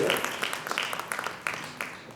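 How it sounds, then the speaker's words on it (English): Audience applause for the ambassadors at the 10th Zydus Pinkathon women's run event, with crowd clapping and cheering, fairly distant and diffuse, with scattered sharper claps rising through a continuous wash. "Big round of applause"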